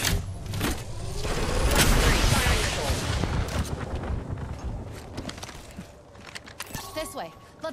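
Weapon fire in Apex Legends, season 14, playing as Vantage: booming shots and crackling bursts that start heavy and loud, then thin into scattered reports, while a character voice calls out over the fighting.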